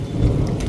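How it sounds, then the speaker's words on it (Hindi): Rain falls steadily on a terrace garden full of potted plants, a dense, close hiss with low rumbling and no voices over the brief moment. "और बारिश हो रही है, बहुत ही अच्छा मौसम हो रहा है"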